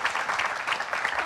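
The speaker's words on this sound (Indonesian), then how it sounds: "tepuk tangan buat Cika Jessica sekali lagi." A crowd claps steadily and densely, a continuous wash of applause with no voices standing out.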